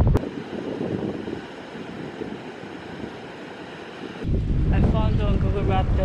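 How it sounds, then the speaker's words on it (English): Strong wind buffets the microphone at a surfing beach in Taiwan, a continuous roaring rush that swells louder in the final seconds, with surf noise underneath and no talk. "Very strong wind."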